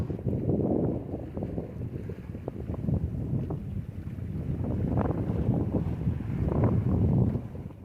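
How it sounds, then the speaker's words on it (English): Strong wind and rough seas roar steadily around a sailboat crossing from Martinique to Dominica in the Eastern Caribbean, with a dense low rumble of wind buffeting and water that swells and fades without any voices. "almost always has high gusts of wind and rough seas"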